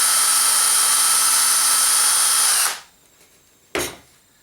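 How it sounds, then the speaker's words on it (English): A power drill bores through cardboard and a plastic rocket nose cone with a loud, steady high-pitched whine for a few seconds, then cuts off and is followed by one short, sharp knock. "we're going to drill through the cardboard"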